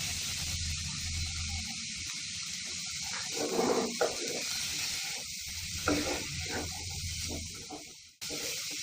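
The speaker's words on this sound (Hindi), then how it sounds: "और अब ये टमाटर भी डाल दे रही हूँ इसमें और साथ में ये नमक भी।" Tomatoes and salt tipped into a hot pan for masala fried rice, steady close sizzling and frying hiss with brief louder bursts of crackle as the ingredients hit the oil.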